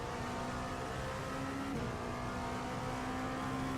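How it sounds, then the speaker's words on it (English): A race car engine in the iRacing sim, driven at Fuji during a six-hour endurance race, drones steadily with the driver lifting off the throttle, a continuous mid-pitched hum that shifts slightly partway through, with no talk. "can clearly hear him lifting and fuel saving all his last stint."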